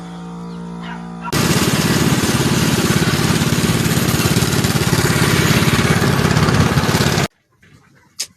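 A small engine that has been removed from its mount runs loud and close for about six seconds with a steady, even drone, then cuts off abruptly into near silence.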